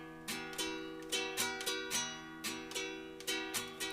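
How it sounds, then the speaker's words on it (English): Acoustic-toned guitar strummed in a repeating down-down-up pattern, with about a dozen crisp strokes in a steady rhythm, moderately quiet, alone with no voices. "Let me just strum it for you real quick."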